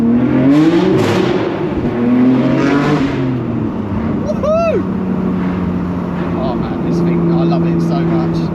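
A Ford classic car, a Capri or Mustang, revving hard inside a road tunnel, a loud booming engine note rising and falling with echoing reverberation, near and continuous throughout.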